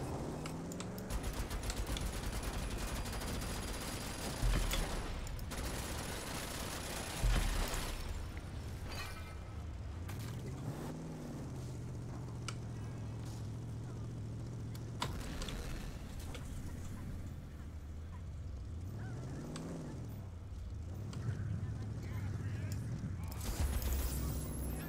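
Gunfire in the video game Rage 2 bursts out in sharp cracks and short volleys over a dense, continuous background of game noise and rumbling. Several loud shots stand out at intervals across the stretch.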